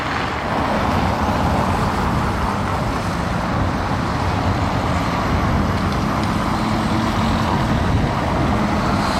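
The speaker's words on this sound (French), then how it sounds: "C'est une Vantage, c'est ça, ouais, c'est l'ancienne Aston Martin Vantage." Traffic rumble from an old Aston Martin Vantage rolling over Paris cobblestones, a steady broadband road and engine roar that stays loud and constant throughout with no voices.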